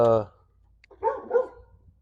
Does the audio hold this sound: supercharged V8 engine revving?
no